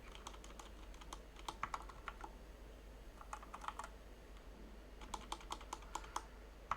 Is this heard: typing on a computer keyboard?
yes